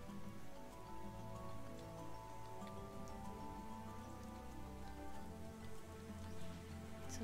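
Steady rain patters continuously over a soft, sustained musical backdrop in the video game XING: The Land Beyond, even and unbroken from start to finish.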